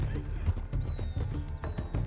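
Hooves clatter in quick rhythm as a horse gallops in the video game Red Dead Redemption 2, loud and close, with a whistling tone gliding over the top and no talking.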